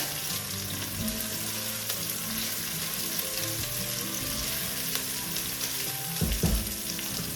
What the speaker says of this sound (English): I have both mince and some sliced garlic in there. I'm gonna saute that up together.